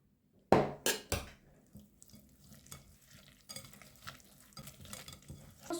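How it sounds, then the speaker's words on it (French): Grated zucchini stirred into cake batter: a few sharp knocks of the utensil against the bowl at first, then soft, steady scraping and wet mixing at low volume. "Ensuite, on va mettre la courgette. Je vais bien remuer."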